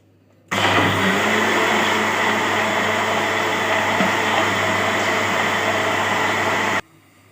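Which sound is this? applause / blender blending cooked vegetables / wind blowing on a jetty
blender blending cooked vegetables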